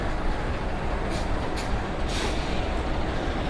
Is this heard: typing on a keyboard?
no